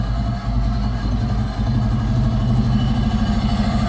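A Toyota MR2 with a swapped 2ZZ engine running in steady idle close by, a loud continuous drone with a slight rise in pitch near the end and no clear sharp revs.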